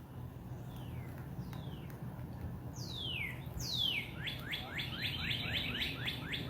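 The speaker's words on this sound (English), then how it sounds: "Listen to the sweet sounding sounds of birds." Several birds chirp outdoors, with sweeping down-slurred calls at first and then a fast run of repeated chirps, set over a steady low background rumble.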